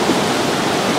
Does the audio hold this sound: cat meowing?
no